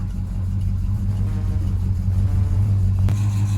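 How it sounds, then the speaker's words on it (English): A car pulls away at the start of a road trip, its engine rumbling low and steady close by with a slight rise in revs and no speech. "So pop your car into gear, take your handbrake off, and go for a drive."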